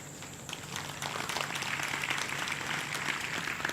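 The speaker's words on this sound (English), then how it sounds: "All Tamil people are clapping." Clapping from a Tamil-speaking audience at a spiritual talk, a dense steady patter that swells after a quieter start and holds at a moderate, somewhat distant level for several seconds.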